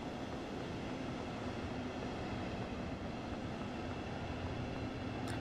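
A train pulls in within Train Sim World 4, a steady low rumble and hum of rail running that holds even and fairly quiet throughout, with no talk.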